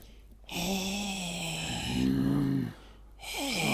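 A voice imitates loud snoring: drawn-out, nasal rasping tones in two long swells separated by brief pauses, close and prominent.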